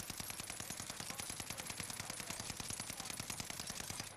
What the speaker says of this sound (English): let's ADS and shoot again. Empty out the whole mag